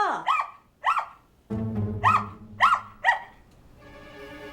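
A small pet dog barks in a series of sharp yaps spaced about half a second apart, close by, with a low sustained rumble under the middle barks and a faint whine trailing at the end.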